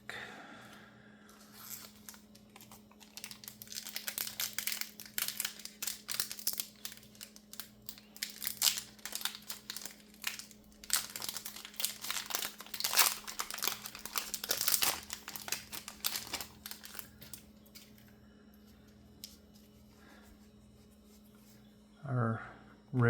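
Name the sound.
opening a Star Wars CCG Tatooine card pack wrapper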